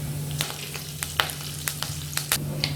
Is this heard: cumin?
yes